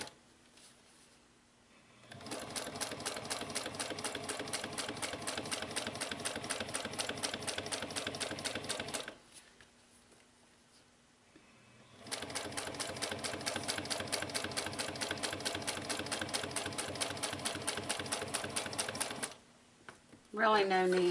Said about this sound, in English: I think I'm going to increase my stitch length to about a 5 for the top stitching.